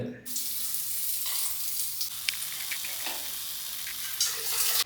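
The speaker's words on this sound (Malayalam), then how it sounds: "രണ്ട് ഭാഗം നന്നാക്കി വറുത്തിട്ട് എടുക്കാം." Food fries in a pan in a Kerala home kitchen, with a steady bright sizzle throughout and occasional stirring scrapes and clinks, and no talking.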